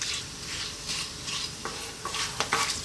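Whole cumin seeds fry in hot oil for a beef curry, a steady sizzle broken by sharp crackles and pops that grow more frequent toward the end, close and fairly loud, with no talking.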